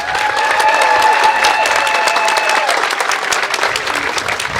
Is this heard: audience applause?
yes